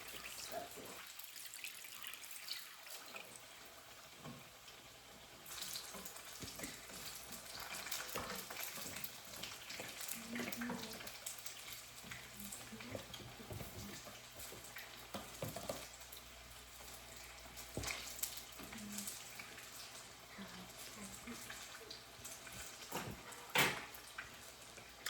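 Jamaican fritter batter fries in a frying pan with a soft, continuous sizzle and crackle, faint and close, with a few scattered clicks and taps over the quiet hiss.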